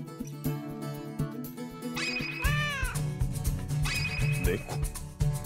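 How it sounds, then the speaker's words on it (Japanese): A cat meows in the video game Fullmetal Alchemist Dream Carnival, a couple of clear rising-falling calls over steady game music. "猫。"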